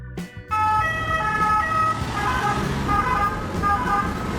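A Spanish ambulance siren, commonly on a Mercedes-Benz Sprinter, plays a rapid alternating two-tone pattern that repeats steadily, loud over road and engine noise, after a brief gap at the start.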